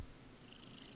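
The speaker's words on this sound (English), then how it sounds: "I can hear your cat purring." A domestic cat purrs softly and steadily for about a second, a faint low rumble with a gentle pulsing texture and no voices over it.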